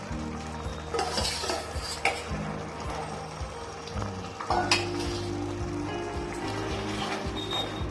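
Bombay duck fish and fried potatoes with green chilies are stirred in a frying pan. A spatula scrapes and clatters in a steady rhythm over a constant sizzle, close and clear, with no voices.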